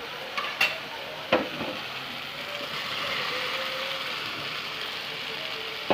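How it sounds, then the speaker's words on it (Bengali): Fried chicken and potatoes are stirred into a hot chili masala in a pan for chicken kasha, with a steady soft sizzle and a few sharp scraping clicks of the spoon near the start. "এগুলোকে দিয়ে ভালো করে নাড়াচাড়া করে দিচ্ছি, দিয়ে চিকেনটাকে ভেজে নেব কিছুক্ষণের জন্য"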